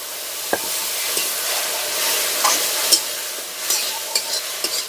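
Ground spice paste with red chilli and a splash of water fries in a pan for a Bengali country chicken curry, a steady close sizzle broken by scraping stirs and occasional spatula taps, with no voices.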